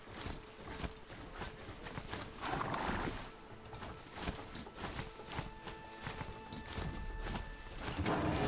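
Horse-like robot footsteps from the Horizon Zero Dawn video game: rhythmic mechanical clip-clop steps mixed with whirring, geared mechanisms over a steady game soundscape. The sound stays fairly quiet throughout, with tonal hums in the background.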